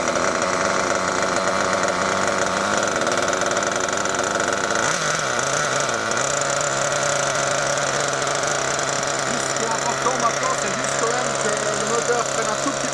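Small nitro-fuelled model engine running after start-up and warming up on a rich mixture, a continuous high, buzzing drone close by, with a slight pitch shift partway through and a voice speaking over it.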